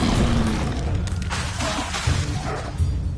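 In a PS5 video game, an Incendio fire spell is cast with a loud whooshing burst and a booming, crackling rush that flares and fades over a few seconds.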